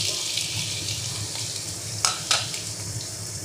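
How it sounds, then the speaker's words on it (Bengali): Potatoes frying in hot mustard oil give a steady, close hiss of sizzling, broken by two short clatters of utensils or food around the middle. "তেলটা গরম হয়ে গেছে, তাই আমরা এতে আলুগুলো ঢেলে দেবো।"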